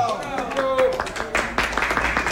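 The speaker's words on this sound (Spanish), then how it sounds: "El aplauso para él." Scattered clapping greets the re-elected mayor Lucho Castañuela at a comedy interview event, building into denser applause in the second half while a voice talks over the start.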